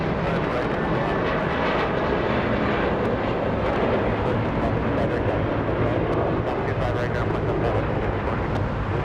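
A JetBlue Airbus A321 jet at Los Angeles International Airport gives a loud, steady roar of engine noise that fills the whole stretch without a break, with a voice talking over it.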